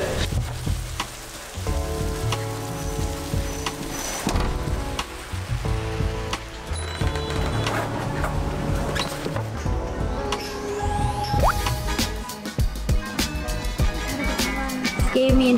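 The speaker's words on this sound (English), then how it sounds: "It is completely pouring outside." Heavy rain pouring down outdoors on Tokashiki Island in Okinawa, a dense steady hiss with splattering drops, heard close and fairly loud alongside clattering and other sharp sounds.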